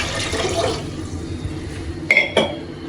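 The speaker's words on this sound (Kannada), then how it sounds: "ಫಸ್ಟ್ ನೀರು ಹಾಕೊಂಡ್ಬಿಡಿ" Water is poured into a cooking pot while bassaru is being made, a brief splashing pour at the start followed by quieter kitchen noise and two sharp clinks of utensils.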